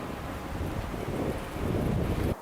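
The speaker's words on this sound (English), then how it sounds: "A lot of wind." Strong wind buffets a microphone outdoors, a steady loud rumbling roar that swells slightly before cutting off, with no voices.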